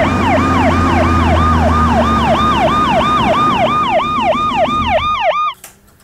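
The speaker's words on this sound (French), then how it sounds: "Pour ajouter un petit peu de réalisme à cette sirène qui s'arrête brusquement" A loud emergency vehicle siren wails in a fast, repeating up-and-down cycle as a sound effect for film editing, then cuts off abruptly just before the end, leaving near silence.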